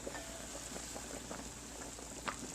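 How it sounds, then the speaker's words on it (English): Veal tongue simmers in a lidded pot at a medium-high boil, giving a steady, soft, muffled bubbling hiss with occasional small pops, fairly faint and without speech. "there you can see the tongue is boiling in there"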